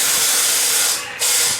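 A Ryobi power tool running up close makes a loud, steady, hissing roar that briefly dips and then surges back to full strength.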